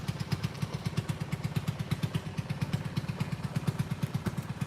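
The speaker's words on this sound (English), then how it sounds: "It looks like a fisherman boat there. I can hear their engine." A fishing boat engine chugging steadily out on the water, a rapid even throb that holds a constant pace throughout with no talk.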